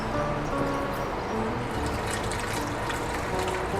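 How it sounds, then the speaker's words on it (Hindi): Water pours steadily into a clay pot being filled for a homemade drip irrigation system, a dense continuous splashing and gurgling that stays loud and even throughout with no talking. "तो आइए अब इसे पानी भरते हैं।"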